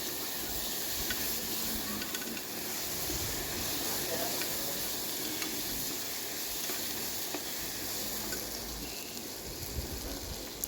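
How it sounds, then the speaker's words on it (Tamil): Small onions and ginger garlic paste sautéing in a pan for mutton chukka, a continuous soft sizzle and hiss with faint occasional stirring, quiet and steady throughout. "இப்போ சின்ன வெங்காயமும் இஞ்சி பூண்டு பேஸ்ட்டையும் நல்லா வதக்கணும்"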